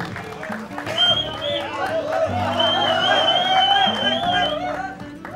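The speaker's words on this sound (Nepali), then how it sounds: "यति ताली हिरो र हिरोइनका लागि बोलाउँदाखेरि भएको थियो त अथवा यसरी सिटी बजाएको थियो?" An audience at a live stage show breaks into sustained applause and cheering, a dense wash of clapping with shrill whistles riding over it, swelling after the first second and holding loud to the end.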